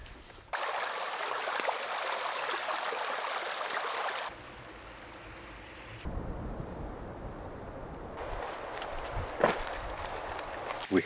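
A Norwegian waterfall in a snowy landscape gives a steady broadband rush of falling water, loud and close, broken by brief shifts in level as the recording position changes, with a few sharp knocks near the end.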